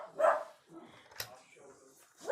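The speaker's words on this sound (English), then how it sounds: "you'll stop the dogs from barking?" A few dog barks indoors at home, short sharp yaps spaced apart at moderate loudness, with a voice talking around them.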